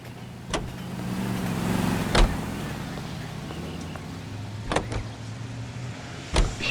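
A car being driven in the 1940s Los Angeles crime game L.A. Noire hums steadily with a low engine drone, punctuated by four sharp clunks, under a faint bit of background voice.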